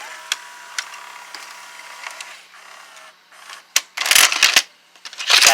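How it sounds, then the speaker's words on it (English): An Emerson VCS955A VCR ejects a tape: faint whirring and light mechanical ticks give way to a burst of louder clunks and clatter near the end, heard up close with no voices. "let me just eject the tape for a second"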